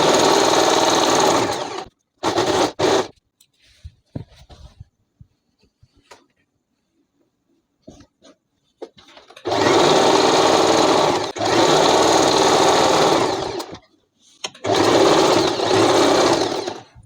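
A sewing machine stitches a palazzo made from a washed cotton petticoat in loud, rapid bursts, separated by quiet pauses and small handling clicks, close up.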